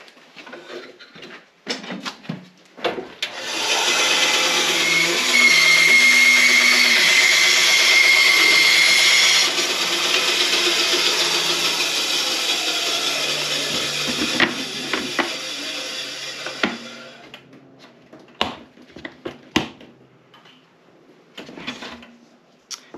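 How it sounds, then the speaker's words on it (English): A handheld router shapes a curved edge on a mahogany furniture piece, a loud steady high whine running for about ten seconds, easing down and fading out, with scattered clicks and knocks of handling before and after. "I'm just doing a little bit with the router."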